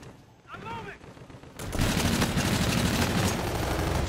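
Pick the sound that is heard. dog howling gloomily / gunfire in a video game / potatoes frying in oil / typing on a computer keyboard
gunfire in a video game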